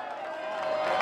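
Spectators of every age cheer along the Arkansas River at Tulsa's Great Raft Race, a steady, distant crowd roar that swells slightly over a single second.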